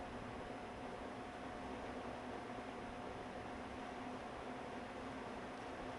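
An Edison box fan runs on its low speed, giving a steady airy hiss with a faint constant whine through it. No voices, an even level throughout.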